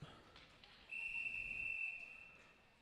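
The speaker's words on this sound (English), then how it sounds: "That was a rather long whistle." A referee's whistle at a Beloit vs Oregon hockey game gives one long, sustained, piercing blast of about a second over a low arena background.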